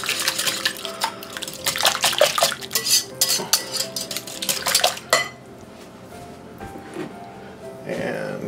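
A spoon stirs dry yeast into a dough mixture in a bowl, clattering and scraping quickly against the sides in busy bursts, then stopping abruptly and leaving a quiet room with a faint clink near the end.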